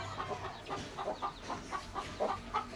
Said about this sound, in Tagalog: update tayo sa ating mga alagang manok.